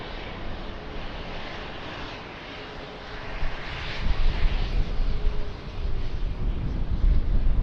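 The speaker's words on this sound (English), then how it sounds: "787 American Airlines." An American Airlines Boeing 787 airliner at Lisbon Airport gives a steady, broadband engine roar that swells louder partway through, heard from a moderate distance with wind noise and no voices.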